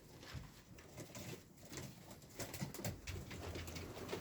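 Antique şantay pigeons coo softly and repeatedly in a quiet, close setting, with faint patter and rustling around them and no talk.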